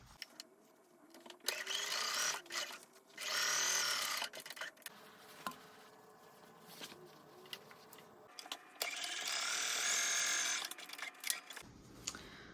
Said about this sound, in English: you're gonna want to sew your waistband together, right sides together, and sew with a seam allowance of 1/2 inch